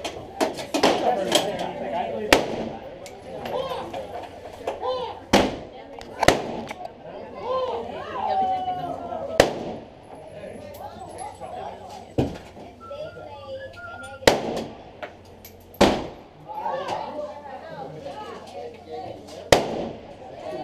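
Rifle shots from an AK at a shooting range, a string of sharp loud cracks spaced a few seconds apart, with people talking throughout between and over the shots.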